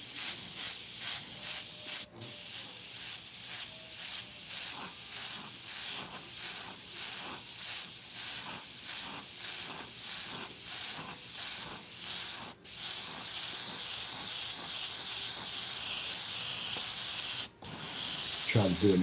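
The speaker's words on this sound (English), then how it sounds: "I don't mind spraying a little bit on the body" An Iwata CM-SB airbrush sprays Createx paint onto a Claybord panel as a loud, steady close hiss that runs in long passes, broken by a few short pauses.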